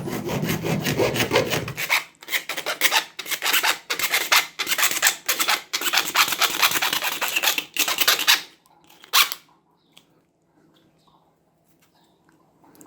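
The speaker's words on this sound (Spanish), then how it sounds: "y voy a cortar un pedazo." A handsaw cuts a piece for a homemade TV antenna, with loud rhythmic back-and-forth strokes for about eight seconds that stop abruptly, followed by near silence.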